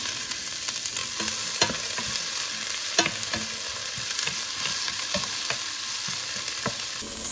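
Purple onions fry in a pan with a steady, dense sizzle while a utensil stirs them, producing repeated scraping taps against the pan throughout, close up with no talking.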